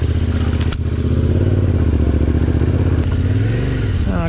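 Husqvarna 701 off-road motorcycle engine idling loud and close with a rough, uneven beat, stumbling and hesitating as it threatens to cut out, with a clatter and a brief rising rev near the end.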